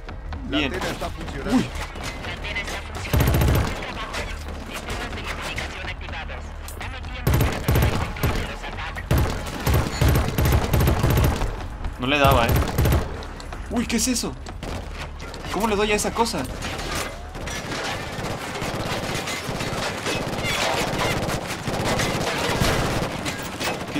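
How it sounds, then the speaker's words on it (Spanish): Heavy gunfire from the shooter Killzone: Shadow Fall, with dense bursts and repeated shots thumping through most of the stretch alongside game effects, while someone talks over the action. "Ok, ya están disparando, ya están disparando"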